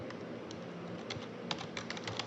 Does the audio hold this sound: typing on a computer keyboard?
yes